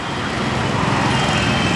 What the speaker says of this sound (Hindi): और आप आते जाते गाड़ियाँ देख भी सकते हैं।